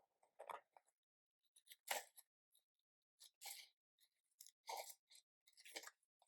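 Scissors cutting paper for a planner spread, a handful of short, crisp snips in separate bursts with quiet gaps between, close up and alone.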